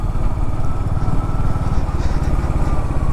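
A Royal Enfield Hunter 350 motorcycle engine ridden through Patna traffic, a loud, close, steady single-cylinder thump with a rapid low pulse and a faint hum of surrounding traffic.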